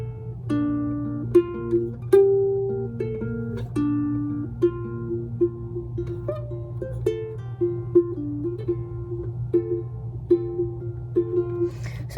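A plucked ukulele picks out the second riff of a song, a steady run of clear single notes and light double-stops over a low steady hum, played alone at moderate volume.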